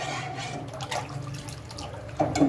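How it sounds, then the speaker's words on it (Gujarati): Water poured into a pot of toor dal for dal dhokli, a soft steady splashing and trickling at close range with a brief louder splash near the end. "તમારે પાણી આ જ રીતના નાખવાનું છે"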